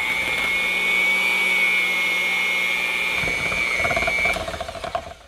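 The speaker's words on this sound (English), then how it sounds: "Got my handy one-arm little mixer here." Handheld one-arm electric mixer whirring as it beats sticks of butter with chives and parsley, a loud steady motor whine that shifts pitch and then sputters and cuts out near the end.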